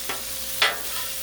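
Vegetables sizzle on a Blackstone flat-top griddle for chicken fried rice, with a steady fry hiss under two brief scraping stirs close by.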